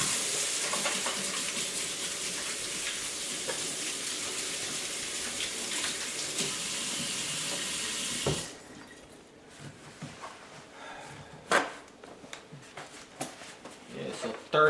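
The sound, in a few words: hand washing under running water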